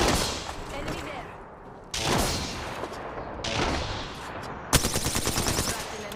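Gunfire in the video game Apex Legends, in repeated bursts of automatic shots with short gaps between them, ending in a sharp, rapid volley. Game voice lines are heard between the bursts.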